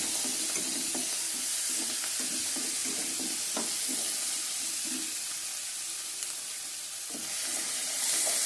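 Chopped vegetables frying in oil in a pan for semiya upma, a continuous bright sizzle with soft, regular stirring scrapes underneath, close and fairly loud.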